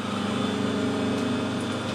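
Lathe motor running forwards during screw cutting for a radial aero engine part, a steady even hum and whir close by with no talking.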